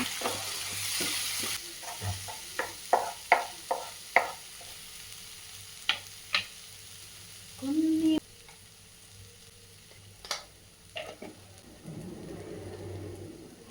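Tomato paste sautéing with mushroom masala sizzles softly beneath a string of sharp spoon clacks and scrapes against the pan, a longer scraping stir near the middle, then quieter bubbling frying toward the end; no one speaks.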